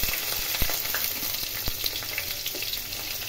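Chopped onion frying in hot oil with cumin seeds and bay leaf, a dense close sizzle with scattered pops and crackles and occasional spatula clicks.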